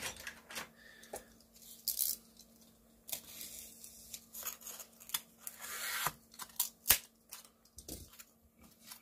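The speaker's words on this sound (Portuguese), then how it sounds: "Deixa eu pegar esse isopor aqui, ó. Deixa eu cortar aqui ele, o estilete." A utility knife cuts through a piece of styrofoam at close range. Quiet scratchy rasps and crackles come in irregular bursts, with several sharper snaps along the way and no talking.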